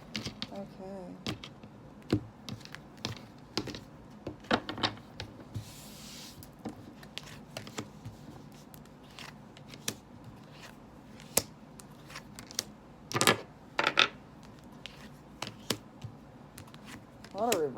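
Tarot cards being shuffled and handled, with scattered quick riffles, flicks and taps spread irregularly across the stretch, close by and interleaved with a person talking.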